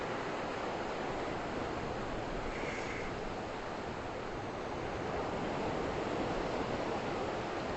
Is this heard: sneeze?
no